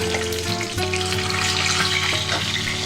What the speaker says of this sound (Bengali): খুব ভালো করে মাছটা আমি লাল করে ফ্রাই করে নিচ্ছি